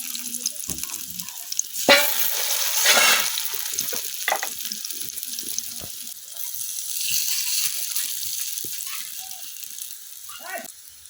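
Taro fritters fry in hot oil with a steady, close sizzle and crackle, broken by scraping and clatter from a spatula as they are moved.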